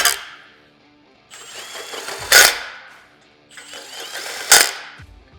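Power tool snugging roof rack bolts on a CFMoto UForce 1000, two close bursts of whirring that build to sharp ratcheting rattles, with quiet pauses between.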